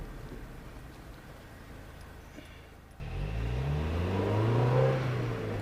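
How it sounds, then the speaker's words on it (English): A 1999 Mazda Miata engine accelerating while driving, with quiet road noise and then a sudden rise into a rising, steady engine drone heard from inside the car. "Shifting is great up and down through the gears."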